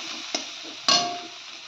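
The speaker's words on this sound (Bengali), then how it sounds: "এই কড়াইতে এখন পেঁয়াজ রসুন ভাজা হচ্ছে" Onion and garlic frying in a wok make a close, steady sizzle, broken by two brief sharp bursts as ingredients are stirred or tossed. No talking.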